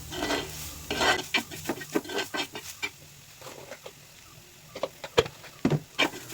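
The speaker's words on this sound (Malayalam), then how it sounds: "നാളികേരം ചെരുകിയത് ഇട്ട് കൊടുക്കാം അതിലേക്ക് അതും കൂടിയിട്ട് നല്ല പോലെ ഒന്ന് മുരിച്ചെടുക്കാം" Grated coconut roasting in a pan, with a run of scraping stirring strokes and soft sizzling in a steady rhythm, close and moderately loud, with no one talking.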